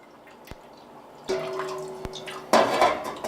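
Wort drips and trickles from a grain bag draining in a colander over a small homebrew pot, starting with sparse drops and building into a louder splattering stream, with occasional clinks of metal.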